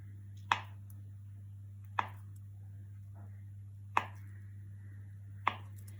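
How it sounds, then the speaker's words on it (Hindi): Four sharp, evenly spaced knife chops, about 1.5 seconds apart, as paneer is cut into thick squares on a board, with a steady low hum underneath and no talking. "थोड़ा मोटा मोटा स्क्वायर में काट लेंगे।"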